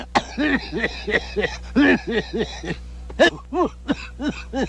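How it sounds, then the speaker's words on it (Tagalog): A run of harsh, throaty coughs and throat-clearing bursts, close by, coming in quick uneven clusters with short pauses between them. "Inuubo ko eh."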